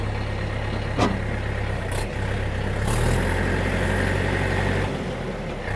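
A DTZ 5404 tractor engine runs steadily at close range with a low rumbling drone during a gearbox test through third, second and fourth gears, its pitch shifting slightly a few times.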